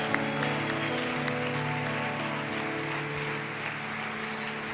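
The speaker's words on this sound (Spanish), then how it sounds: "Y dale más fuerte ese aplauso al Cordero que venció," Applause from a church congregation during a worship service, a steady wash of clapping over sustained music, continuous and moderately loud throughout.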